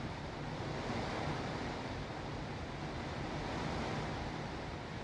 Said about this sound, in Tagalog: Kiramdaman nyo guys yung hangin.